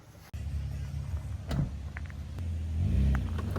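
A vehicle engine rumbles and revs as it strains to pull an abandoned Nissan 350Z out of the woods, a low steady drone that swells toward the end, with a sharp knock near the start.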